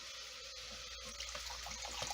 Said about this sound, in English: I'm going to go ahead and add about 1 cup of water.